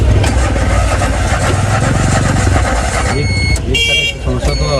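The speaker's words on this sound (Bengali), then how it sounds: "আমরা এখন ইঞ্জিনের সাউন্ডটা শুনবো" An old Leguna utility vehicle's engine idles nearby with a steady low rumble, a brief sharper burst near the end, and voices talking over it.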